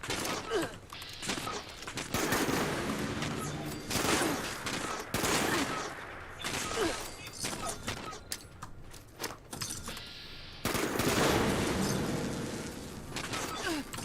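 Combat in the horror video game Sentient brings a dense run of loud gunfire bursts and booming blasts, including a plasma grenade explosion, in continuous chaotic clusters with brief lulls between them.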